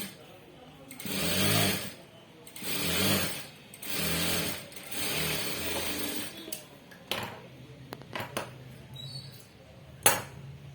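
A sewing machine stitches a blouse in three rapid whirring bursts of about a second each, followed by scattered clicks, snips and handling knocks of the fabric and tools, with nearby talk in between.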